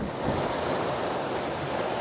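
Ocean surf breaks far below a cliff, a steady broad wash of rushing water mixed with wind buffeting the microphone, fairly loud and continuous with no voices.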